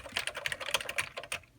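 Close, rapid typing on a Commodore 128 computer keyboard in very good shape, a quick run of crisp plastic key clicks lasting about a second and a half, quiet and without speech.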